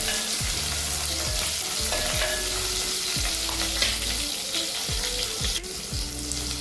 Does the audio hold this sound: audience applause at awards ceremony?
no